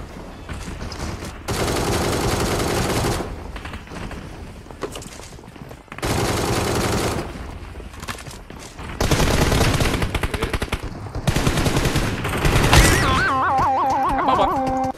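Bursts of automatic gunfire in the PUBG Mobile battle royale game, several loud sustained volleys separated by brief pauses, with a tonal in-game sound near the end.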